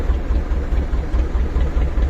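A fishing boat's engine running steadily as the boat heads out through waves on the first fishing day, a loud, close, low throbbing drone with a regular pulsing beat.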